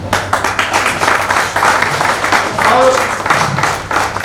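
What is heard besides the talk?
loud applause and clapping at a stage celebration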